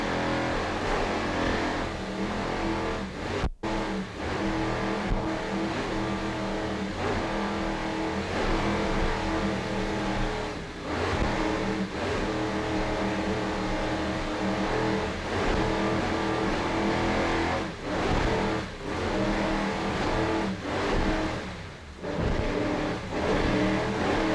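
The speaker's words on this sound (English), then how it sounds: "Let's go on board Nick Carter Racing." Onboard a Nick Carter Racing race car in 2002 team racing, a loud engine drones continuously with wind roar, holding steady with occasional dips as the driver lifts and gets back on the throttle.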